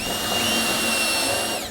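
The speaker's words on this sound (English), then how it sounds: "Lag bolt, washer, bracket, drill with a driver deal on it." Drill with a driver bit sinking a lag bolt through a bracket and washer in a train room, one continuous close whirring motor run that winds down at the end.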